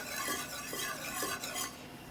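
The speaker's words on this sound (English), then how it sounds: "I'm then- melting my butter." Butter melting and being stirred for a chocolate sheet cake in a cooking-class kitchen, with a steady soft sizzle and scraping stir and faint utensil clinks throughout, no talk.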